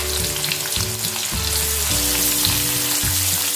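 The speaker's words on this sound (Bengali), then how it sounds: "হালকা করে ভেজে নেব, 2-3 মিনিট ভেজে নেব।" Thinly sliced medium onions fry in hot oil for a South Indian chicken Chettinad, giving a steady, close sizzle with a tonal musical layer running throughout.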